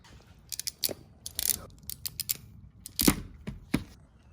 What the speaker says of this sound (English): To crimp the connector on the end of the wire, we're going to use these ratcheting crimpers.